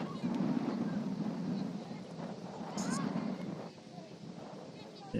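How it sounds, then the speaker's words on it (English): Gusty wind on a chilly night at an outdoor women's soccer match, buffeting the microphone in a continuous low roar that swells and eases, with game and crowd sounds underneath. "Big gusts of wind coming in."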